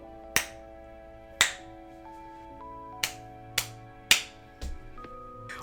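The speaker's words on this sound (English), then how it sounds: "So I'm gonna like snap my fingers and test it out and play with it so you guys can see." Six sharp finger snaps, clearly spaced and close by, ring out over a steady electronic hum and soft tones while RGB lights on an Epomaker GK96S mechanical keyboard react to each one.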